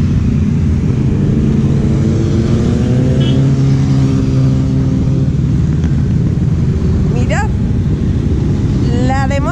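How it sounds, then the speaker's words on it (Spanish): Motorcycles roll past in a flag parade at the Pingüinos 2019 rally in Valladolid, a dense continuous engine drone with revving rises near the end, under loud crowd chatter. "Y motos y motos y motos."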